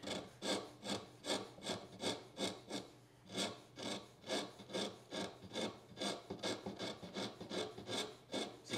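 A cabinetmaker's or model maker's rasp strokes steadily across wood, giving about a dozen and a half rhythmic, close, bright rasping scrapes with short pauses between them and no voices.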